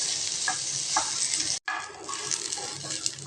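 Okra sautéing and shrinking in oil gives a bright, steady hiss with faint stirring taps, broken by a brief silent gap midway.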